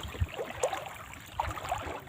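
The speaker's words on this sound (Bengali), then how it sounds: "এটার জন্য আমরা নৌকা দিয়ে যেতেছি, তাড়াতাড়িও হবে।" A small boat moves quickly through water on a rainy day, with soft splashes and a low wash repeating steadily near the listener over a continuous background.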